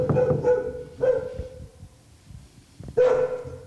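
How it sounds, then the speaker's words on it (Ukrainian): A dog locked inside an apartment on the second floor barks from behind the closed door, three bursts of barks separated by pauses, muffled and fairly close. "почули собачий гавкіт."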